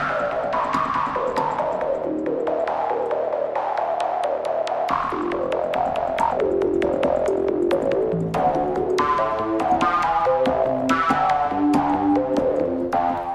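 An aggressive, in-your-face EDM synth from the Del Norte library for Kontakt 5 plays a driving pattern of bright, harmonically dense stabs, loud and steady throughout, with a deeper bass layer joining after the first few seconds.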